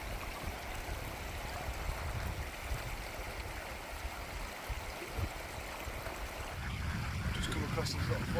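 Small stream flowing beneath a little footbridge on the Whernside walk in Yorkshire, a steady close rush of water with wind buffeting over it, continuous and fairly loud throughout.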